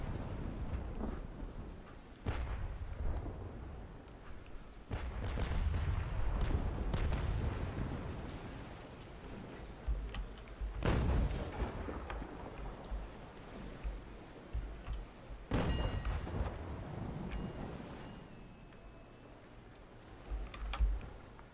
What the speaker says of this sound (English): Some of those shots were worryingly close.